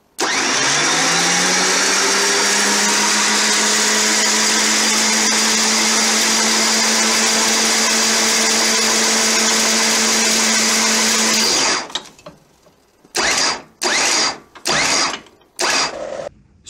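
A RED Winches winch with an air brake runs at a loud steady whine for about twelve seconds, then stops abruptly, followed by several short bursts of operation with gaps between.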